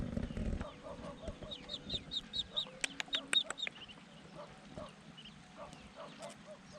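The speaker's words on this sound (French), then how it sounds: "Oh, les poussins." Chicks cheep in rapid high chirps along a mountain trail, with a cluck or two and a few nearby sharp calls, close and fairly clear after a brief bump of handling noise at the start.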